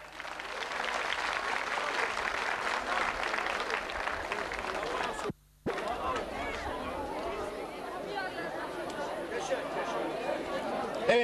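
A crowd at a town cultural and arts event in Güzelbeyli applauds its mayor, Cemal Kesen, with sustained clapping mixed with chatter and crowd murmur, briefly cut by a gap midway before resuming.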